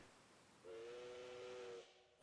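A steam train whistle in Octopath Traveler II sounds one steady, loud, sustained tone for just over a second, standing clear of a quiet background hiss with no talk.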